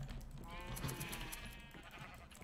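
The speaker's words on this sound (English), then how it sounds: "Sheep." Sheep bleating in the Minecraft video game, several wavering calls overlapping at moderate volume across the short stretch, with a faint background hum and no talking.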